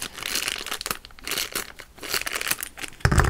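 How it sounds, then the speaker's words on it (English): Plastic toy packaging from Disney Pirates of the Caribbean mini figures crinkles and crackles as it is torn open, close and busy in irregular bursts, ending with a louder crunch. "I'm having trouble getting it out of this plastic."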